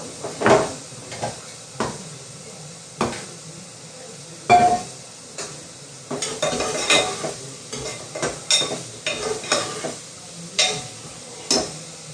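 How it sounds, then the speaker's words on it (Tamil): Tomatoes and masala sauté in oil for bitter gourd curry, with a spoon scraping and knocking in repeated strokes over a soft sizzle, close up and with no voices. "லேசாக தக்காளியை போட்டு வதக்கிட்டு மசாலா போட்டு அப்புறம் கொஞ்சம் வதங்கிட்டு"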